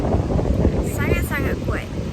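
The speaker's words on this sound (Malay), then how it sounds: "Angin sangat kuat ya." Strong wind on Tok Bali beach in Kelantan roars steadily across the microphone, with rushing broadband noise and brief faint voices or whistling tones in the middle.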